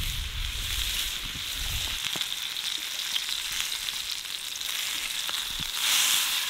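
New York strip steak and mushrooms fry in butter and olive oil at a camp cook setup, a steady close sizzle and crackle throughout, with a brief low rumble of wind or handling near the start.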